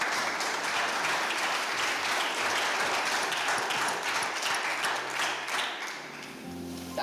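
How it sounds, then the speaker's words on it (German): A poetry slam audience breaks into dense, loud applause right after the judges' scores are announced. The clapping holds strong for most of seven seconds, then thins and softens near the end. "Einen großen Applaus."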